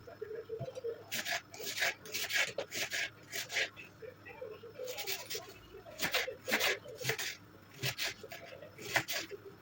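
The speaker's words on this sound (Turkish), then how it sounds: "2 adet orta boy soğanımızı yemeklik olarak doğrayalım." Two medium onions sliced on a board in a home kitchen, heard as quiet rhythmic knife strokes and rasping cuts in irregular bursts, with soft background noise between them.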